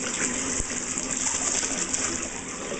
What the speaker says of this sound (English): I'm going to start putting the water on Mr. Sylvester.